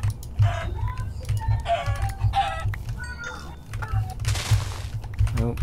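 Video game chickens clucking in short bursts over a steady low hum, with small clicks scattered throughout; a sharp hiss cuts in briefly near the end.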